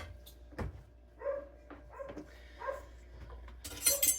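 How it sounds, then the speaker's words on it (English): A dog barks a few times in the background of a home kitchen, with short, faint-to-moderate yips and woofs spaced out over several seconds and a louder burst near the end. "Sorry about the dog barking in the background."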